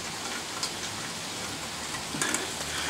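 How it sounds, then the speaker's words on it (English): Heavy rain pours down outdoors in a steady, dense hiss of drops hitting surfaces, fairly close and continuous, with a few sharper patters and no one speaking. "That's right, it's pouring down rain."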